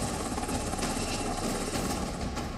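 NATO military helicopters flying during an exercise, a loud continuous rotor and engine roar with steady broadband wash and a slight rhythmic beat, no speech over it.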